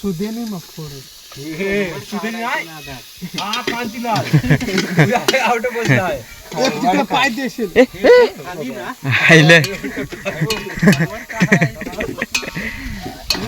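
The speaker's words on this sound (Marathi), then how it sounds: "आता चांगला कांदा असा फ्राय करू" Onions frying in a pan at an outdoor chicken party, giving a steady loud sizzle and hiss with people talking over it throughout.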